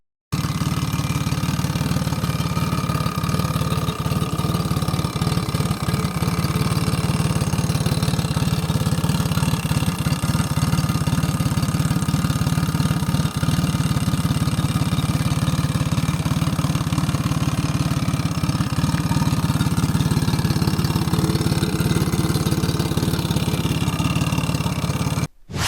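A boat engine idles steadily and loudly for the whole stretch, a continuous low rumble with a constant mechanical drone and no talking.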